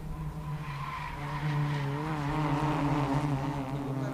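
Race cars on the back straight during a round of the Indian National Car Racing Championship, engines droning steadily at a distance with rising pitch as they accelerate, a continuous blended roar heard alone.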